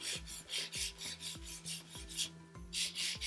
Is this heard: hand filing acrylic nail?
yes